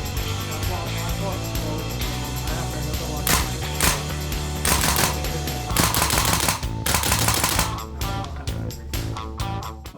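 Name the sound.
M16 A3 rifle gunshots during test shoot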